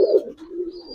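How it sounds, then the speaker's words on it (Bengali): A Giribaz domestic pigeon gives a brief, close, fairly loud low coo that swells at the start and trails off within a second, heard alone. "এটা আমার ঘরের কবুতর।"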